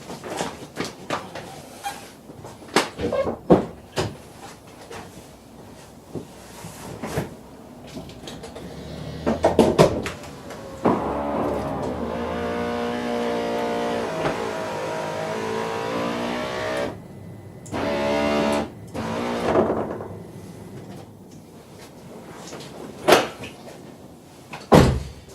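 The engine access deck of a Porsche Boxster 986 is worked open: a series of sharp clunks and clicks, then a longer creaking, scraping stretch of panel and mechanism noise, with further knocks near the end.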